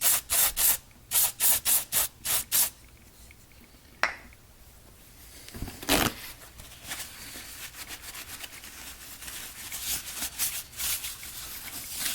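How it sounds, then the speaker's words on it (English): Several short, sharp bursts of CRC throttle body cleaner spray on a 2018 Ford Edge Sport 2.7L EcoBoost V6 throttle body in quick succession, then a longer hiss of spraying with scattered clicks and rubbing noises. "let's get after it with the spray."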